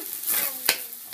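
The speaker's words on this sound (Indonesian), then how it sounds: "Lalu diaduk guys, biar merata." Nasi goreng fried rice being stirred in a hot pan, a short close scrape and toss over a bright, steady sizzle, ending in one sharper clack of the utensil.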